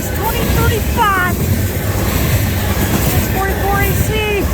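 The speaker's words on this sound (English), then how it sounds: "Crude oil train." A CN crude oil freight train led by a U260 locomotive rumbles past steadily at Ladysmith, with wind buffeting the microphone and a couple of brief horn-like tones rising above the continuous rolling noise.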